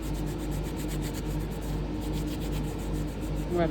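A damp cloth rubs a 3D plaque built with stand-offs clean, producing close, even back-and-forth wiping strokes in a steady rhythm.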